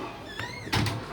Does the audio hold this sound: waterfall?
no